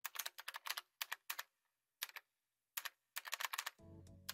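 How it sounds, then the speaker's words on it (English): Computer keyboard typing in the game Death end re;Quest, crisp clicky keystrokes in quick clusters separated by short pauses, close and clear, ending with a low hum. "Let me use your keyboard"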